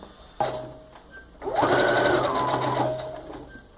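Sewing machine stitching a lined zipper pouch, with a brief reverse-stitch burst followed by a longer steady run of rapid, close, whirring stitches that fade into short pauses.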